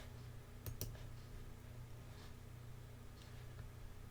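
Mouse clicks in Sure Cuts a Lot cutting software on a computer: a quick double click near the start, then a couple of faint isolated clicks over a steady low hum, with no talking.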